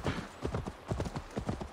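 Horse hooves clip-clopping in Assassin's Creed Valhalla, a brisk, regular run of close hoofbeats in even rhythmic clusters, loud and alone for the whole stretch.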